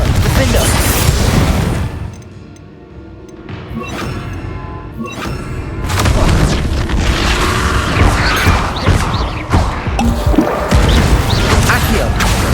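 Repeated thumping blasts and crashes of the Confringo explosion spell in Hogwarts Legacy during a spell-heavy duel, loud impacts separated by a quieter lull, with occasional voices over the fighting.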